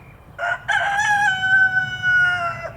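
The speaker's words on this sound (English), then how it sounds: "can you hear it? Can you see it over there, the cockerel?" A rooster crows once nearby on an allotment, a loud drawn-out call standing alone over faint background.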